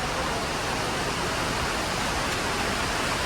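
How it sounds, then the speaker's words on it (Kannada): Heavy rain falls as a steady, dense hiss filling the whole span at constant loudness, with no talk over it. "ಹೆವಿ ಮಳೆ ಇದೆ ಗಾಯ್ಸ್"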